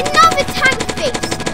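Rapid automatic gunfire from a Thompson submachine gun during a Roblox zombie fight, a dense burst of cracks running for under two seconds with game noise mixed in.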